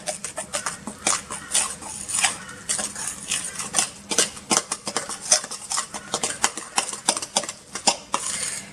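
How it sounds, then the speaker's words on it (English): A knife mixes scone dough in a bowl, giving a steady run of sharp metallic clicks and scrapes against the bowl, close and fairly loud, with no talking. "And take back the knife again, and we mix this"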